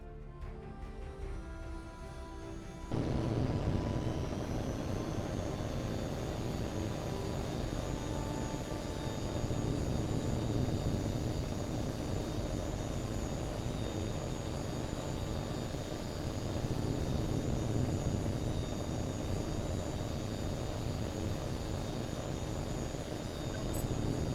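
A fighter jet takes off in the video game HAWX 2. A quieter engine idle builds to a loud, steady jet roar after a few seconds and holds constant and even through the rest, with no voices.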